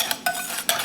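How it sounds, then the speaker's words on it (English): Whisking ingredients seasoned with black pepper in a bowl, with three quick clinking strokes of a metal whisk against the bowl, close and crisp, and no voices. "now, we're gonna give that a whisk"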